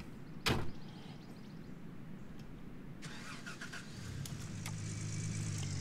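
Getting into a car in the Gold Rush video game: a sharp door thunk, then an engine starting and settling into a steady idle over ambient background noise.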